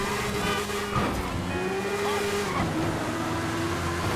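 A motorcycle engine in the video game GTA V drones steadily near and loud, its pitch shifting up and down as it revs through gears, with a brief tire-scrub texture midway and no talk.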